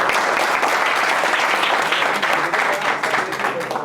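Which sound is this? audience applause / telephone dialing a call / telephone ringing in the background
audience applause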